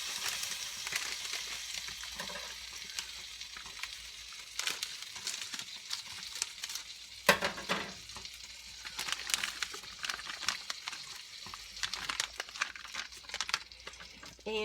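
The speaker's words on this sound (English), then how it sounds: "And stir them up in there and let them be absorbing the flavors" Cooked shrimp are stirred into a grits mixture in a pan, producing a faint, steady sizzle with soft, irregular stirring scrapes and wet crackles over about fifteen seconds. The sound stays quiet and close, with no clear speech.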